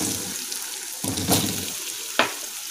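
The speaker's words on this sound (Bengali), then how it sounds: "আলুগুলো ভেজে নেব।" Potatoes frying in oil left over from frying fish, a steady close crackling sizzle with a few brief stirring bursts, no voice heard.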